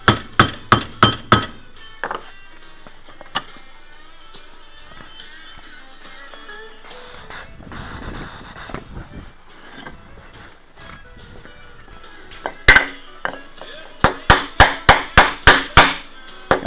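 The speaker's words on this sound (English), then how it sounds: "you want to use a soft hammer or something so that you don't hurt the bearing" Quick bursts of sharp tapping from a soft hammer striking a bearing on a combine, several hits at a time, with quieter shuffling and handling noises between bursts.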